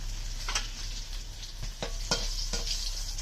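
Radhuni seeds, two bay leaves and two dried chillies tempering in hot oil make a quiet, steady sizzle, broken by a few short crackling bursts as the pan is stirred.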